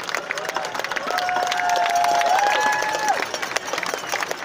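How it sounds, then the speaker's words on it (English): Crowd applause and cheering at an outdoor Stand Against Hate rally in Alamo Square Park, a dense spread of clapping with voices rising through it, holding steady for several seconds. "give your hands, yourself a big round of applause for being out here today."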